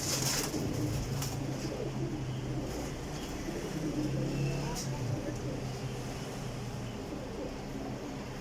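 Pigeons kept by a breeder coo in low, repeated throaty calls, fairly close, over a steady background hum with someone talking.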